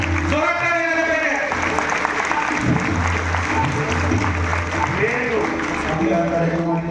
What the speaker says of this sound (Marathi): या टाळ्या कमी आहेत. जोरात काय झालं पाहिजे.